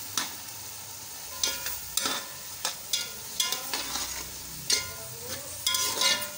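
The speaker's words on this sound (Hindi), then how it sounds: "अब गाजरें भूनते हैं" Carrots and peas fry in a pan for vegetable pulao. A spatula stirs and scrapes in short, irregular strokes over a soft, steady sizzle, with no voices.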